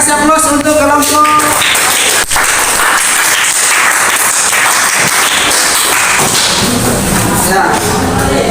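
A classroom of students applauds a student group after their presentation, a steady, loud wash of clapping with thumps and voices mixed in throughout.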